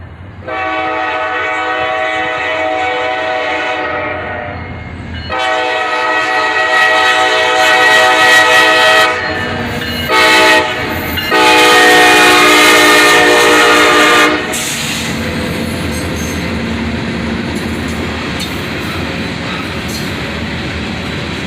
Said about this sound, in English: Another pair of SD40-3s lead this southbound train.